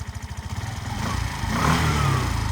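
A Suzuki Address V125 S scooter engine starts after standing unused for a long time, with rhythmic cranking pulses that catch and rise into a close, steady, revving idle.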